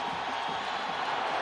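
Stadium crowd roaring steadily at the 1998 Arkansas vs Tennessee college football game, a dense, continuous wash of cheering from a big home crowd backing the Tennessee defense, with a commentator's voice faintly mixed in.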